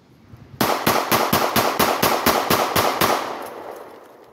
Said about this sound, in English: You can see the kind of crazy rate of fire you can achieve with this pistol, keeping in mind this is a subcompact pistol